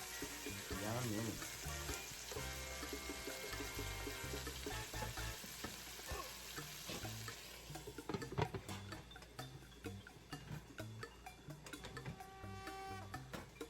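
Italian sausages fry in a pan with peppers and onions, a soft steady sizzle broken by small ticks and pops, heard at low volume.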